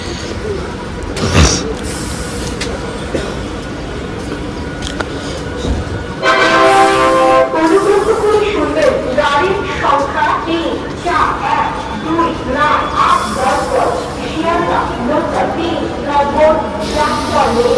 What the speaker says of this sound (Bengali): ওই যে চার নম্বর পাঁচ নম্বর প্ল্যাটফর্ম আর এই যে ট্রেনটা আসলে দেখছি এটাই হচ্ছে আমাদের মাঝেরহাট হাসনাবাদ লোকাল